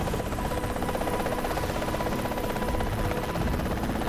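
Helicopter in the video game Earth Defense Force 2025 gives a steady, loud rotor drone with a dense buzzing hum that holds unbroken throughout, with no voices.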